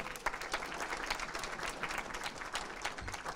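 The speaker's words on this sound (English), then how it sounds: "you can clap for that, why not?" Guests clapping at a St. Patrick's Parade committee installation dinner, a faint, distant, even patter of many hands continuing throughout without talk.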